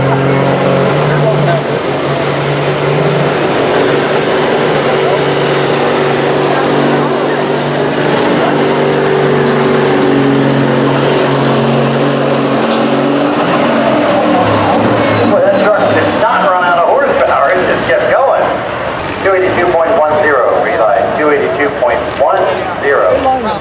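A 1998 Kenworth semi truck engine labors at a truck pull, a loud sustained diesel roar with rising and falling pitch that breaks into rougher, choppier bursts later, heard under an announcer's voice and crowd noise.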